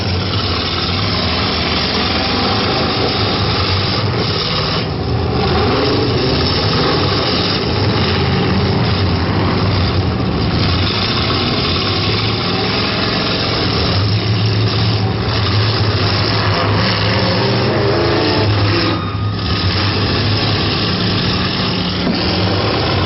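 Full-size demolition derby trucks rumble and rev steadily for over twenty seconds, a loud continuous engine drone with some rising throttle surges and crowd-arena ambience, no talk.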